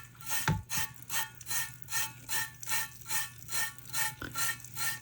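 Fine glitter being rubbed by hand into tacky glue on a tumbler, a steady series of about a dozen rhythmic gritty rubbing strokes, close and quiet, with a couple of small knocks and no talk.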